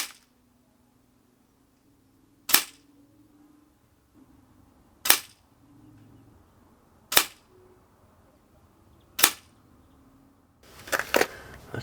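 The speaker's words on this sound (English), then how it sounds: "we'll get the rifle out and give it a little bit test" Four sharp, quiet air rifle shots fired one at a time at a target, spaced about two seconds apart outdoors, with a rustling clatter at the end.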